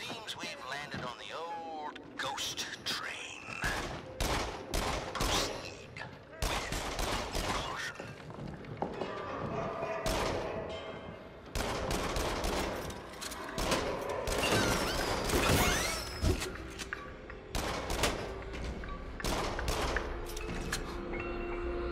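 Gunshots in the VR horror shooter Until Dawn: Rush of Blood, loud sharp bursts fired in irregular clusters over a steady game soundscape, with occasional booms and thuds between volleys.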